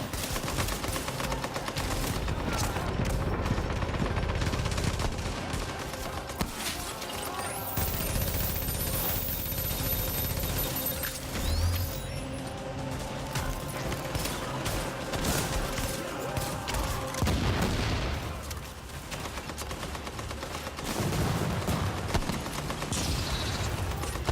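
Rapid bursts of gunfire from a video game fight, several shots in quick succession layered over dense, continuous game effects and background sound throughout.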